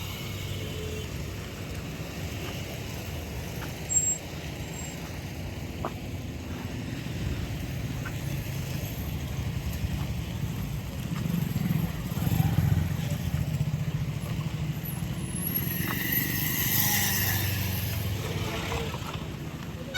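A traffic jam of trucks, cars and motorcycles gives a steady, dense rumble of idling and creeping engines, with low drone throughout, occasional louder passing swells and some wind buffeting on the microphone.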